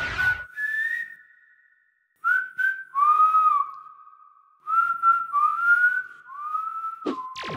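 A person whistles a melodic tune in sustained, sliding notes with a brief pause near the start, clear and close.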